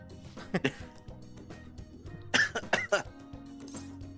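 Several coughs from a character in Persona 5 Royal, one short burst early and a louder cluster midway, over quiet game background music.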